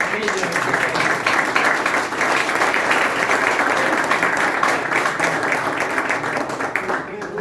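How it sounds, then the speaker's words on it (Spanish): Applause from an audience at a talk on Argentine mountaineering, a dense, continuous clatter of many hands that carries on for several seconds. "Un aplauso."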